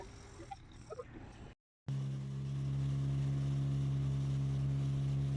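Motorboat engine on an evening boat safari at Trincomalee, a steady droning hum starting after a brief gap and holding near and constant to the end.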